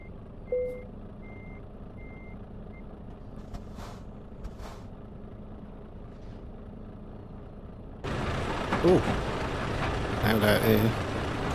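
A truck's reversing beeper chirps in short evenly spaced pulses while the rig backs up to hook a trailer in Euro Truck Simulator 2, fairly faint, before a louder burst of engine and air noise near the end.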